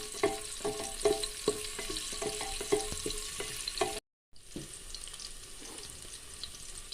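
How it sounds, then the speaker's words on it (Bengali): Chopped onion and onion leaves fry in oil for a deshi chicken curry, a continuous hiss punctuated by quick rhythmic spatula scrapes and clicks against the pan, then a short gap before a quieter sizzle continues. "আমি পেঁয়াজটাকে 1 মিনিট তেলে ভেজে নিচ্ছি।"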